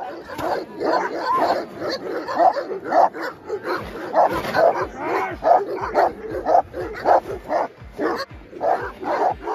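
A young Moscow watchdog barks repeatedly and close up, in a steady rhythm of loud barks with whimpering yips mixed in during training.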